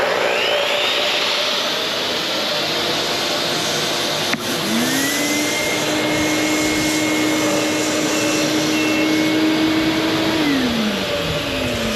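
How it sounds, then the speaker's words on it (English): A chop saw running off a DIY solar generator built from golf cart batteries and a BougeRV inverter, in a loud steady motor whine that drops briefly near four seconds before spinning back up to a high sustained pitch and winding down. "Fire up the chop saw again, Nora."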